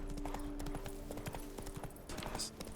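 Horse hooves clip-clop in a quick steady rhythm while riding in The Witcher 3, close and moderately loud over faint game ambience, with no talking.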